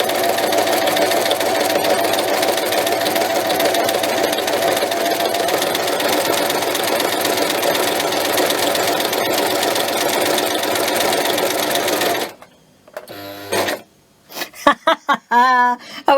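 A foot-operated treadle sewing machine stitches fabric with a loud, steady, fast mechanical whir and rhythmic clatter lasting about twelve seconds. It then stops abruptly, followed by brief handling noises and short bursts of the machine.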